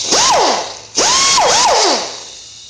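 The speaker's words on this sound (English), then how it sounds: "I'm going to use a die grinder, air powered." An air-powered die grinder whines in two close bursts, its pitch swooping up and down as it spins up, loads and slows, loud and alone.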